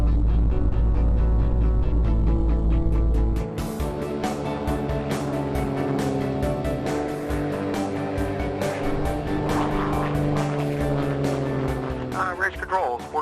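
A Nemesis NXT sport class race plane taking off at an air race. A steady engine drone rises in pitch and holds strong, with radio chatter talking over it.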